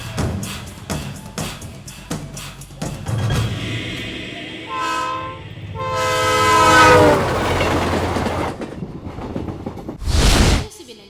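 The Godavari Express from Visakhapatnam to Hyderabad pulls into platform 2 with a low rumble and clattering wheels, then long, loud horn blasts rise over the rolling noise, followed by a final sharp blast.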